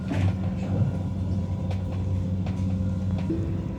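Mountain train running along a riverside track in winter, a steady low rumble and rolling drone with faint rattles, continuous and moderately loud from inside the carriage, with no talk.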